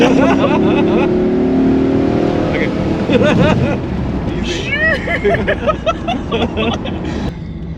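A Pontiac Trans Am of about 270 horsepower, restarted after sitting unused for 17 years, revs hard up close in loud, rising and falling engine bursts, with people talking and exclaiming over the roar.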